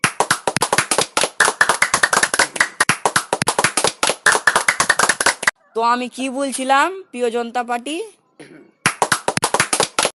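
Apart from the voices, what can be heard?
hand clapping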